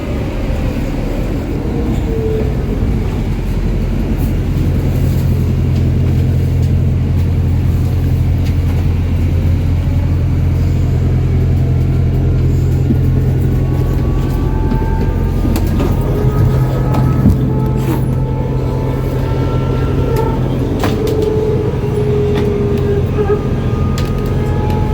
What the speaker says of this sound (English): Bus stopping.